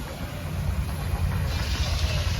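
A 1904 steam tractor runs at a pioneer-days sawmill show, giving off a steady, loud hiss with a low rumbling churn underneath and no talk.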